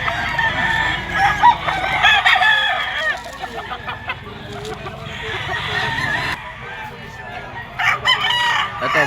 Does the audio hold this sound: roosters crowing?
yes